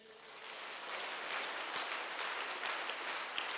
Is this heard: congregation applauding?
yes